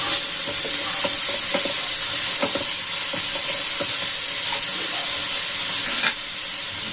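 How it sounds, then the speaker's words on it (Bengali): Tomatoes frying in a pan of hot oil while a spatula breaks them up, giving a loud steady sizzle and hiss with repeated scraping and tapping strokes, no voices. "এখন এগুলোকে হালকা করে একটুখানি এভাবে ভেঙে দেবো, যাতে টমেটোটা নরম হয়ে যায়"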